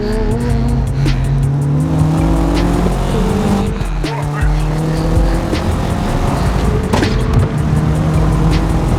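Engines rev hard and tires squeal as cars, including an Audi A4, race past, a loud continuous roar with rising and falling pitch, and a voice speaks briefly over it.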